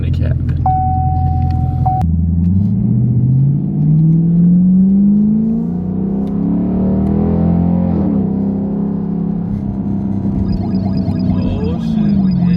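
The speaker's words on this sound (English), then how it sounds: "let y'all hear inside what it sounds like in the cabin" A straight-piped Chevrolet Camaro SS heard from inside the cabin while driving, a loud continuous engine drone that rises and falls with acceleration, close and dominant throughout.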